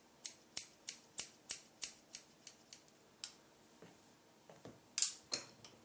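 Scissors cut hair during a semi-long round-graduation haircut, giving a rapid series of about a dozen crisp, close snips in a steady rhythm, then a pause with faint handling and two more snips.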